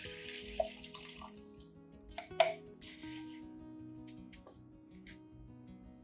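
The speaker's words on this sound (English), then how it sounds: "Next, I'll pour water into the bottle's base like this." Water poured into the base of a bottle for an orchid grown semi-hydroponically, a soft trickle with a couple of small splashes, fairly quiet and heard on its own.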